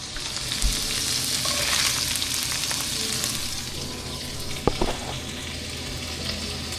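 Whole onion fries in a pan in a home kitchen, making a continuous close sizzle with stirring, and a sharp clunk partway through.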